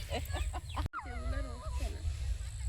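High, wavering peeps of young chicks chirp close by after a brief burst of voice-like sounds and an abrupt cut.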